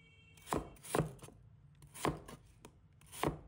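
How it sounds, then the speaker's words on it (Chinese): A knife dices potato strips into small cubes. Crisp, close chops land in an irregular rhythm, some single and some in quick pairs, against quiet background. "最后将土豆条切成均匀的小粒。"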